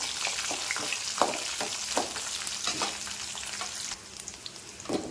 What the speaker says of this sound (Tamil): அது கூட பூண்டு பூண்டை போட்டு நல்லா வதக்கணும்